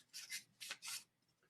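White sandpaper rubs stain off a wooden billiard tobacco pipe in three short, quiet rasping strokes, soft and close with brief pauses between them.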